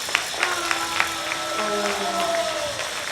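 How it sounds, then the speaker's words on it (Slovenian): Audience applause for two contestants at an Ekokviz school quiz, a steady dense patter of clapping with crowd murmur and faint voices mixed in. "Dajmo en aplavz za njiju."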